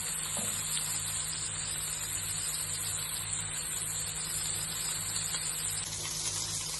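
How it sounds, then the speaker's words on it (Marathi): Prawns fry in hot oil on their second side, a steady even sizzle and bubbling heard close and continuous with no talk. "अशा प्रकारे दुसऱ्या बाजून पण भाजून घ्यायची."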